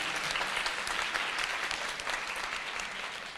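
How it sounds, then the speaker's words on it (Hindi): An audience applauds at a Hindi-Urdu poetry recital, a steady, full wash of many hands clapping continuously without pause. "एक बार आप ताली बजाइए।"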